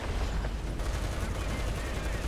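Gunfire in the War Thunder video game comes as dense, continuous loud shots and rumbling blasts that fill the whole stretch without a break.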